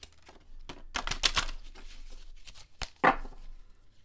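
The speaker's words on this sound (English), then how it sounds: "I'm going to do a quick shuffle." Oracle deck of rune cards being given a quick shuffle, producing close, crisp flicking and slapping bursts in uneven clusters with a sharp snap near the end, moderately quiet and without speech.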